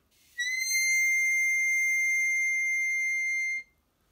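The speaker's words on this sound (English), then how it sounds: "And hole 10 sounds like this." Hole 10 of a harmonica sounds one high, thin, whistle-like note held steadily for about three seconds before stopping, clear and isolated.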